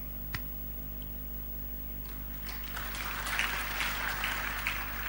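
A church congregation breaks into scattered applause during a sermon. Light, growing clapping from a crowd in a large room rises over a steady low hum.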